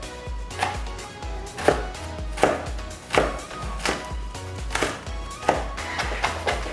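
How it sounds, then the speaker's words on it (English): A knife chops green chilies finely on a cutting board, with a series of sharp, evenly spaced thuds about once every second that sound close and clear, with no talk. "We're going to chop them fine."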